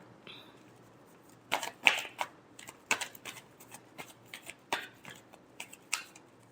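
Tarot cards being shuffled by hand during a reading, a run of crisp riffling bursts and soft slaps repeating at an uneven pace, close and fairly loud, with no talking.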